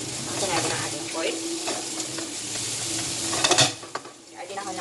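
Meat for adobo fried rice sizzles and crackles in hot oil in a pan, a bright continuous fry with stirring scrapes and a louder burst of spatter near the end, no talking over it.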